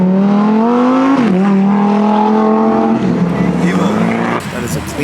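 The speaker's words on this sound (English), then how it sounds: "We need the Lambo to floor it." A Lamborghini at a car meet is floored, its loud engine note climbing, dipping briefly on a shift, then rising again in a hard, close acceleration while a crowd's voices sit underneath.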